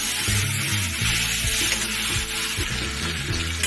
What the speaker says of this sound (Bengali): আলু আর কুমড়ো দিয়ে ভালো করে আমি মিশিয়ে নিচ্ছি মশলার সাথে।